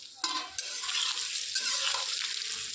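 Food stir-frying in a pan at home, a steady close sizzle with scraping stirring strokes, no voices.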